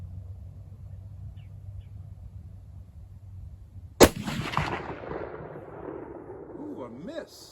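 A single loud gunshot from a Marlin 336 lever-action rifle in .30-30, fired with iron sights at targets out to 240 yards, cracks sharply midway through and rolls off into a long outdoor rumble after quiet background hum.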